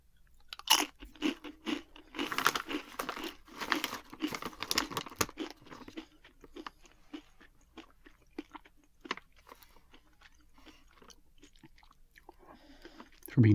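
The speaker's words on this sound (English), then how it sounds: "These have a really good crunch to them." Close, crisp crunching and chewing of a vegan, gluten-free bean snack, with dense bites and rapid crackles early that thin into sparser, softer chews and crinkles later.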